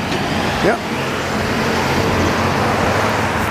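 A City of Laval municipal truck rolls by in steady street traffic on a boulevard in Laval, Quebec, a continuous close roadway rumble with a brief swell as it passes and a short spoken word.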